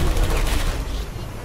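Turret gunfire in Portal 2, a dense burst of rapid automatic shots that comes in loud and then eases off slightly over a second and a half.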